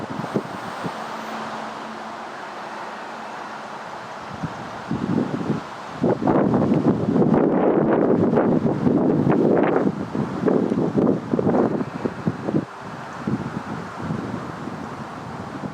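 Forceful diaphragmatic breaths drawn and pushed through a training mask, heard close to the microphone as a run of loud, rough, gusty bursts after a quieter opening, repeating in an uneven rhythm.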